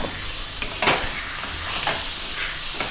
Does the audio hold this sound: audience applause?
no